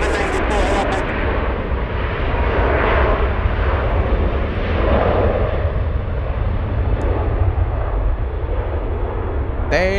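An Airbus A380 jet airliner taxis at an airport, its engines a loud, continuous broadband roar and rumble that holds steady throughout, with wind buffeting close to the microphone.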